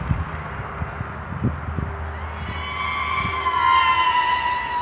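EMAX 2306 2400KV motors on an FPV drone with a Matek F405 controller running DSHOT600 spin up, starting with low thumps before a rising, loud, multi-toned whine builds over the last two seconds.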